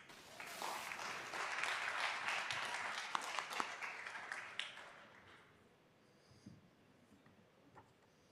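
An audience at a school board meeting applauds teachers. Soft, distant clapping holds steady for about five seconds, then dies away into a quiet room with a few stray sounds.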